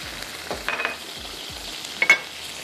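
A spoon stirs boneless chicken strips with cream and a chicken stock cube in a pan, a soft steady simmer broken by a few scraping strokes and light clinks near the end.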